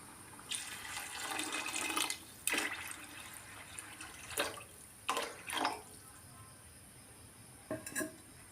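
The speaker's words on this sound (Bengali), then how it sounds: "এখন জল দিয়ে দিব" Water is poured into tomato rice in a cooking pot in several short splashing bursts separated by pauses, close and fairly soft, with no talking.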